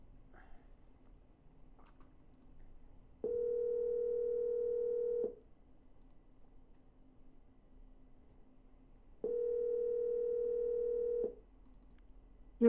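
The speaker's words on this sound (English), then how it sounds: "I'm going to double dial." Telephone ringback tone heard while a call is dialed, two steady two-second tones separated by a long silence, clear and alone.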